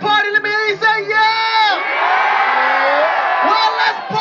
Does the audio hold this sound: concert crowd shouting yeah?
yes